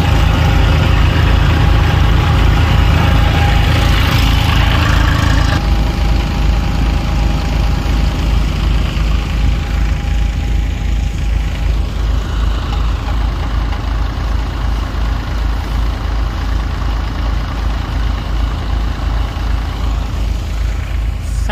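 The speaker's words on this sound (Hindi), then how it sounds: "2021 का, जो फर्स्ट में लॉन्च हुआ था मूंगफली का, गौतम थ्रेसर का, वही मॉडल है अपने पास।" A 2021 first-launch Gautam groundnut thresher, basket (tokri) model, runs in a field with its engine drumming steadily at a low idle-like throb, loud and continuous throughout with no talking.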